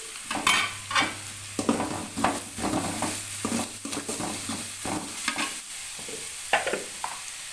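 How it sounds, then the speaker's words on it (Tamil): Bottle gourd sautés in a pan with a steady close sizzle and repeated rhythmic stirring scrapes from a spatula, plus a low steady hum in the background and no one speaking. "கொஞ்சம் நல்லா வதங்கட்டும் இப்போ இது நல்லா வதங்கிருச்சு"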